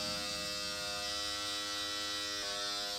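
Electric microneedling pen buzzing against facial skin at a 1 millimeter needle depth, a steady, close, high-pitched mechanical whine that holds constant throughout with a slight shift near the end.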